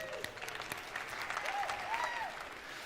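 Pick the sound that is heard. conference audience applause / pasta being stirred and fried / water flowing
conference audience applause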